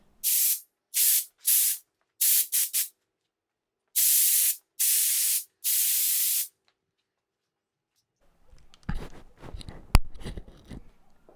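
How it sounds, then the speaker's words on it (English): Short bursts of compressed air hissing loudly in quick blasts, then silence followed by faint rustling and a light knock. "This thing gets really loud when I air compress it and when it turns on to refill the air compressor."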